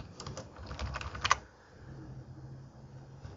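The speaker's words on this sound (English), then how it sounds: "You can also install it by typing pip install requests." A rapid run of keystrokes on a computer keyboard as a pip install command is typed, close and fairly faint, ending with a sharper final key press, then quiet room tone.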